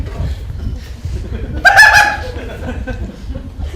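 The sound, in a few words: person imitating a seagull call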